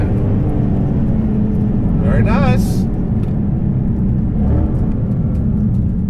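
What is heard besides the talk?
widened supercharged bagged 2015 Mustang GT driving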